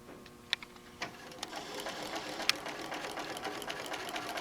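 A sewing machine fitted with a walking foot stitches along the long side of a fabric bag, starting with a few sharp clicks before settling into a steady, close hum.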